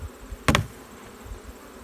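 A short, loud burst of honey bee buzzing during a hive split, lasting about a tenth of a second amid faint background noise and light low thumps.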